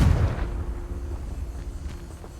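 Hogwarts Legacy's Confringo fire-blast spell goes off as a single deep, booming burst at the start, then fades into a low rumbling tail.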